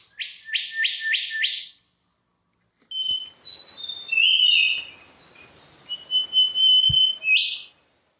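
Bird calls recorded in Pranburi, Thailand: a fast run of four sharp chirps, a pause, then high thin whistling notes and trills, clear and fairly close against quiet background hiss.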